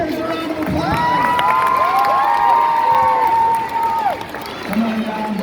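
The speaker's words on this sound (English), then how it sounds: "Give our 2 volunteers a round of applause." A crowd cheers, whoops and claps for two volunteers brought up on stage, loud and lively with high shouted voices riding over the noise before it drops off near the end.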